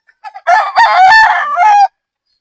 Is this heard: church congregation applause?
no